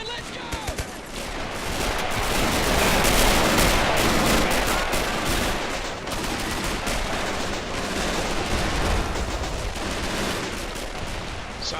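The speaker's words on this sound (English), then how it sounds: "I like the sound of that Lewis gun" Lewis machine gun fire in the Men of War Assault Squad 2 video game, a loud, dense fusillade of overlapping gunshots and bursts running almost nonstop through a forest battle, with no pause in the din.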